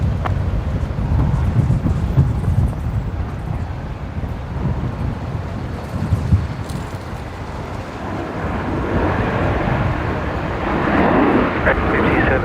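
A Jetstar airliner on the runway at Brisbane Airport gives off a low, broad engine rumble mixed with wind buffeting on the microphone, steady and heavy throughout.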